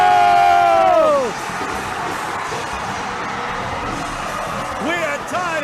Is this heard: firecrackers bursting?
no